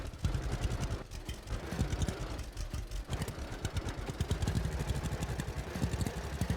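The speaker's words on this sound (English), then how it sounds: "we should see a tractor coming to plow that field here shortly" A tractor engine in the Farmers Dynasty video game runs steadily and loud throughout, a low, rough idle-like rumble with clattering pulses, heading out to plow a field.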